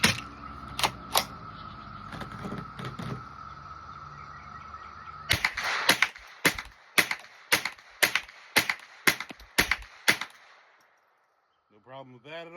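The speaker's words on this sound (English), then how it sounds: "now let's try the CCI Mini Mag, which is slightly lower at 1235 FPS" A Rock Island TM22 .22 rifle fires CCI Mini Mag ammunition in a string of sharp, close, loud shots, a few at the start and about ten in steady succession, with a faint voice briefly at the end.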